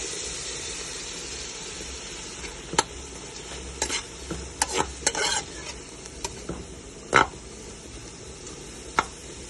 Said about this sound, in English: You can hear the pot. You see how the butter is like working its way in there?